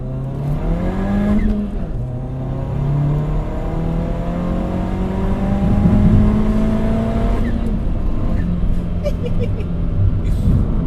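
A tuned Ford Fiesta ST hatchback, around 280 wheel horsepower, revving up through second gear, its loud engine note climbing, dropping at a shift, then rising again, with a voice audible over the drone.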